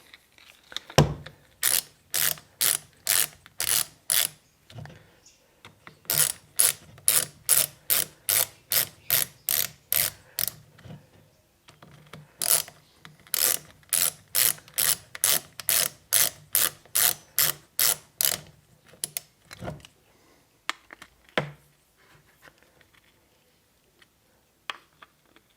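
Bolts on a bicycle power meter are gradually tightened toward torque spec with a ratchet or torque wrench, giving bursts of rapid, close clicking in several runs separated by short pauses, with no talking.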